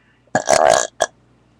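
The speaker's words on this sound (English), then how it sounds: "burp and see what's the longest burps I can do and the weirdest." A loud, close human burp, a croaky drawn-out belch lasting about half a second, followed after a short gap by a brief second burp, alone in a quiet room.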